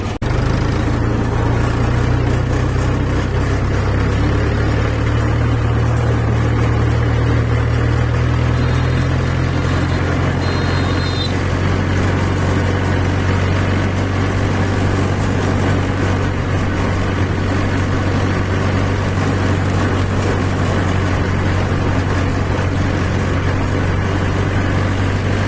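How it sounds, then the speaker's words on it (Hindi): A tractor towing a rotavator drives along with a loud, steady low engine drone and rattling machinery that continues without pause throughout, close and dominant with no talk. "इसलिए हम ट्रैक्टर को ले जा रहे हैं रोटावेटर के साथ"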